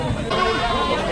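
Goats bleat in short wavering calls amid a busy crowd of overlapping voices at a Philippine livestock market, the animals close by and fairly loud.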